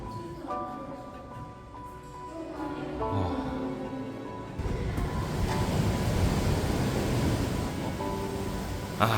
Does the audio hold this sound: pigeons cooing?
no